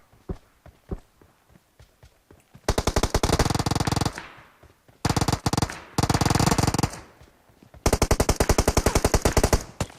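Bursts of automatic gunfire in the mobile battle royale game PUBG Mobile: three long, loud, rapid-fire volleys separated by short pauses, preceded by a few scattered single shots, with no talking.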